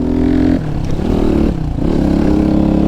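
A Suzeromoto 250cc dirt bike engine revs up and down in loud, sustained bursts, close by, with a brief dip in the middle before rising again.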